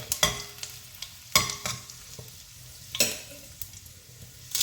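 A spoonful of mustard seeds and three dried red chillies fry in hot oil for a jackfruit dish. Several sharp scraping stirs stand out over a low, crackling sizzle. Nobody talks.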